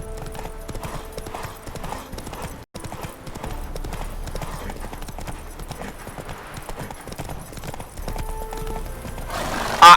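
Geralt's horse Roach gallops in The Witcher 3, with a steady, rapid clip-clop of hooves running throughout, mixed with game ambience and a brief loud burst at the very end.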